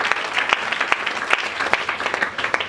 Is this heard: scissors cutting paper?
no